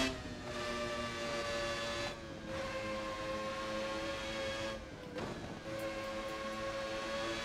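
A Williams FW19 Formula One car in the Assetto Corsa racing game gives a faint, sustained high-pitched engine whine that shifts pitch slightly with brief dips, heard alone.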